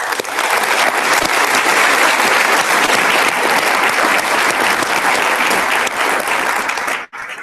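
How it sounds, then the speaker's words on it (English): A large audience at a city address in Caldwell applauds steadily and loudly for about seven seconds, a dense wash of clapping that cuts off abruptly near the end. "I would like to invite you to give a round of applause"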